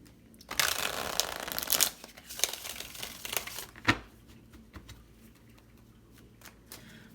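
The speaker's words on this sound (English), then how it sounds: "One more shuffle." A deck of tarot cards is shuffled close up, with a dense run of riffling and rustling over about three seconds, a few separate card snaps and taps after it, then quiet handling.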